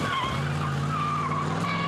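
A 1924 Bentley 4.5 litre racing car at a hill climb roars steadily close by, its engine note holding loud and continuous with a squealing, skidding edge throughout.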